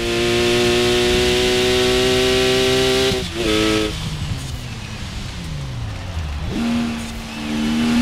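A car engine in Forza Horizon 4 revs hard in a loud, close, sustained whine that climbs, cuts off sharply at a gear change, drops into a lower drone, then swells again, with no voices over it.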